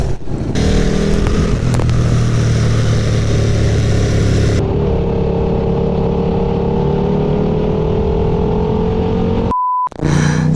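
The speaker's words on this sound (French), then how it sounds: "Première fois que je sors sur la moto avec le proto" A KTM RC8 R motorcycle running with a prototype setup on a racing circuit: a loud, steady engine drone that shifts in pitch as it rides, then cuts out abruptly for a moment near the end.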